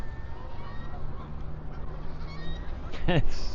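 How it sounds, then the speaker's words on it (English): Geese honk in a short burst of a few calls near the end, heard from a moving ride past a large pond in rural Gaoyao, China, over steady road and engine noise. "We've got another big pond here on our left. A lot more geese."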